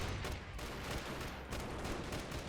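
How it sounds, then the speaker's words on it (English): SMG fighter firing on the player in Freeman: Guerrilla Warfare, heard as dense bursts of gunfire that run almost continuously over the short stretch, fairly quiet overall. "That was just an SMG fighter that I was being shot at there."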